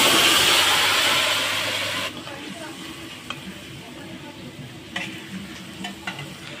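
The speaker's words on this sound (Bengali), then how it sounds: "এখন আমি মাছের ঝোল সম্বরে দিয়ে দেবো" Fish curry hits hot oil tempered with whole cumin, bursting into a loud hissing sizzle that gradually dies down to a softer bubbling simmer with occasional clinks, close up with no talk.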